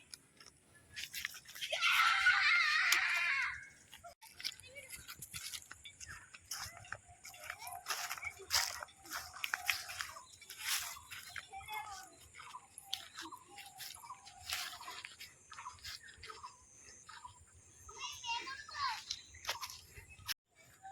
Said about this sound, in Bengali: ও ঘাস খেতে ব্যস্ত কি করে ঘাস খাচ্ছে